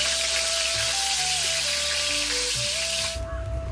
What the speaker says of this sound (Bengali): আর এক সাইডটা করে ভালো করে ভেজে নিচ্ছি।